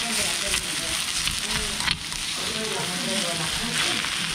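Hot stone-pot bibimbap at a Korean restaurant hisses and crackles in a loud, steady, close sizzle with faint voices in the background.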